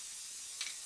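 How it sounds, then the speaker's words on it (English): Grey primer sprayed from a can onto a piece of wood, a soft continuous hiss with a brief stronger puff near the end, faint and alone. "What I'm doing now is spraying the piece of wood with a generous coating of grey primer."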